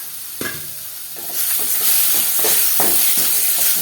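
Chopped large tomato sautéing in a pan for a pomegranate stir-fry, a steady loud sizzle building after a few stirring scrapes, continuous hiss with clattering spoon strokes close by.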